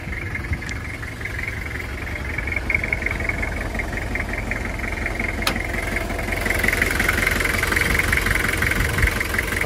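Diesel engine of a 2002 Toyota Kijang LGX idling with the hood open, a steady close rumble with a faint knocking rhythm that grows slightly louder and rougher toward the end.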